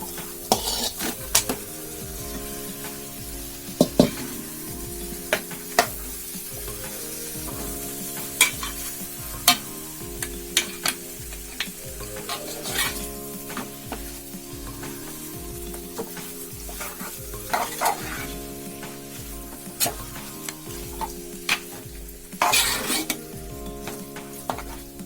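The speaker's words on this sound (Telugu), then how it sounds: "ఇప్పుడు మనం కలిపి పెట్టుకున్నటువంటి ఈ చికెన్ని యాడ్ చేసుకుందాం." Marinated chicken stirred into fried masala in a pan for a dhaba-style chicken curry, with steady sizzling and repeated scraping and clanking of a spoon against the pan, close up and without talk.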